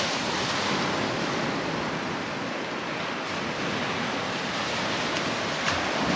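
Breath blown steadily onto a small campfire to get it going, a continuous broadband rushing close to the microphone, loud and unbroken for several seconds.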